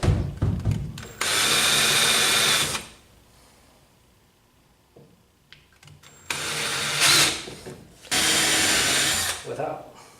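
A power drill with a sharp bit bores holes into a wooden board for a DIY retro arcade cabinet, three loud sustained whirring bursts of a few seconds each, separated by quiet stretches with faint handling noises.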